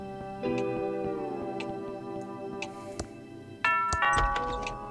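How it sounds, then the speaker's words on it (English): A synthesized doorbell in the video game Thimbleweed Park chimes with bright sustained tones, followed by clicks and a second quick electronic jingle. "That sounds like the doorbell."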